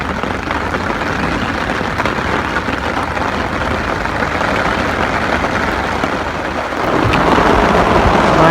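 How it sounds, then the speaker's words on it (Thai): Steady heavy rain with thunder at an outdoor fishing spot, a dense, even roar that swells louder near the end, with no voices. "รอฝนหยุดสักแป๊บนึงครับ"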